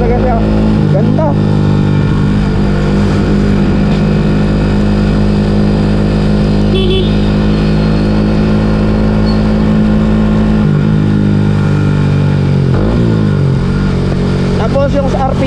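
A Yamaha Sniper 150 (Y15ZR) motorcycle engine runs loud and close, holding a steady drone with brief rev swells, while someone talks over it.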